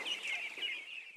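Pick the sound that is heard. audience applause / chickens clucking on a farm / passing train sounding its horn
chickens clucking on a farm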